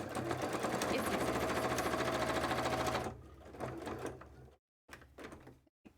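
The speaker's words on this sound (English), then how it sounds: "We are sewing some scales today." A sewing machine runs fast and steady for about three seconds, stitching fabric scales for a cosplay contest costume, then stops, leaving quieter handling clicks and low background voices.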